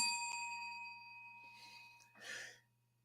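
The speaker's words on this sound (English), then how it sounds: "Hit the bell." A bell struck once in a sports talk show, giving a bright ding with long ringing overtones that fade slowly over about two seconds, followed by a short breathy noise near the end.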